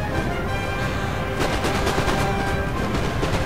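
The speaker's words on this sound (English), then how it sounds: "I get a few shots off" Musket volleys crackle in Napoleon Total War battle gameplay, a loud, steady burst of layered gunfire rattling through the whole short stretch.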